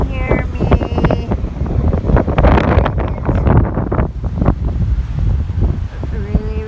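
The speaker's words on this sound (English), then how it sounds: "It's really, really windy." Strong, gusty wind buffets the microphone outdoors, a loud, continuous roar with rushing surges throughout and no clear speech heard.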